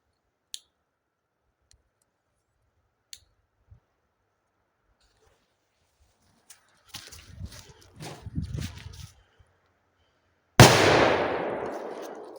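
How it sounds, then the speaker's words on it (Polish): A small firecracker set into a hole in a pot bursts with a single loud, sharp bang that rings and decays, preceded by faint clicks, scattered taps and brief rustling handling noises in otherwise quiet surroundings. "wilki sobie wystraszymy z taką małą petardą i wsadzimy tutaj sobie w dziurę"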